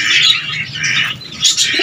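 Close, loud bird chirping in quick bursts, with cooing pigeons mixed among the higher tweets, at an animal market.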